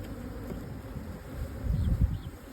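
A caught honeybee swarm buzzing around a hive at a Hill Country ranch, a dense, low, continuous hum of many bees close by, swelling louder near the end.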